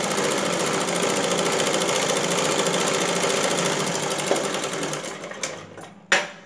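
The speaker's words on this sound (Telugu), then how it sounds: "ఇప్పుడు మనం ఇంకొకటి డబుల్ కుట్టేద్దాము" Sewing machine running steadily as it stitches a second, double line of seam on a blouse, a dense continuous mechanical whir for most of the stretch, fading near the end with a couple of sharp clicks.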